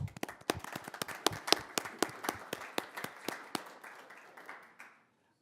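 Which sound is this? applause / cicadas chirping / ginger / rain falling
applause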